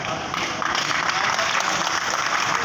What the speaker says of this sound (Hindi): ये आप लोगों की तालियां भैया।